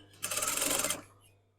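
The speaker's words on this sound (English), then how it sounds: "And then again I'm going to put that overlocking down, put the elastic over it," An overlocker sewing elastic onto a seam gives one short burst of fast, even stitching that is fairly faint, then winds down to quiet.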